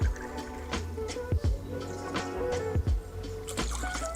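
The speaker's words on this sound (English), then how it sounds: "we're going to kick this one off by adding 2 ounces, a 60 ml cachaça to our shaker" Cachaça, 60 ml, poured into a cocktail shaker, giving close, wet glugging and dripping sounds with a few brief splashes over about four seconds.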